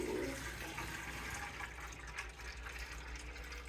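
Water runs steadily from a sink tap into a container being filled for watering houseplants, a continuous faint rushing splash with no talk.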